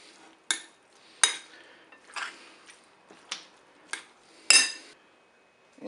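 Spoon taps and clinks sharply in a bowl while white beans, tuna and red onion are mixed, several distinct knocks spaced over quiet gaps.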